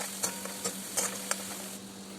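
Chili, cumin, mustard seeds and garlic sizzle steadily in hot oil, close and fairly quiet, with a few soft stirring clinks breaking through.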